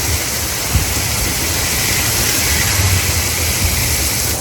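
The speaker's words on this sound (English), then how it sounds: "It is absolutely downpouring." A heavy tropical downpour in Panama, loud and close, a dense unbroken hiss of rain drumming steadily with no voices.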